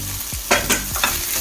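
Ground coconut and cumin paste being stirred into sweet pineapple pachadi in a Kerala kitchen, a close, thick sizzle with three quick scraping strokes of a spoon through the mixture.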